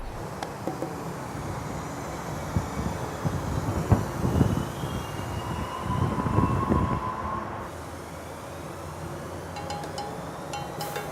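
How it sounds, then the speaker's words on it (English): A metro train rumbles through University Metro Rail Station with rising and falling mechanical noise, a steady tone and brief squeal, heard from a platform at moderate distance. "Right now we're at the University Metro Rail Station"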